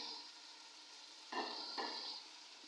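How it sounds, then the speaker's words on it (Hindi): Tomatoes fry in a pot with a soft, steady sizzle, and two short scraping strokes of a spoon stirring them come about halfway through. The sound is close and fairly quiet, with no voices. "2 मिनट के लिए टमाटर को भी ऐसे मैं फ्राई कर लूँगी इसके अंदर।"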